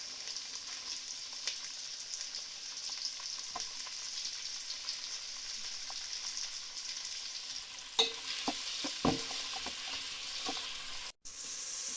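Onions fry in a pan for a Nepali chicken thukpa, a steady close sizzle with scattered scrapes and clatters of stirring, a few sharper knocks near the end, no talk.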